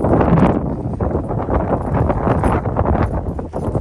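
Strong wind buffets the microphone outdoors, a continuous loud roaring rumble that gusts unevenly for several seconds with no talking.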